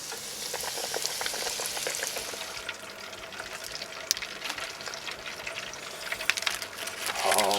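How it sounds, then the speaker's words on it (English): Panko-breaded oysters deep fry in a fryer with a dense, continuous crackling sizzle and scattered pops, close and steady throughout. "And then this goes right into the fryer."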